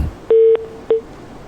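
Telephone dialing tones sound as a caller is connected to a Pakistani morning TV show: a long steady tone, then a second short beep, clear and alone with no talk.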